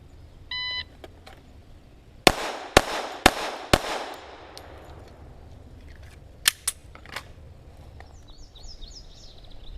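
Shots from a Glock 41 .45 pistol fired one-handed, four sharp cracks in quick succession, then two more spaced reports later, loud and close with faint beeps and outdoor ambience around them.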